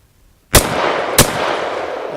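Two sharp gunshots from a rifle fitted with a CAA MCK micro conversion kit, fired at steel gongs and a 2-liter bottle outdoors, spaced about half a second apart and loud, each ringing out into a sustained noisy tail.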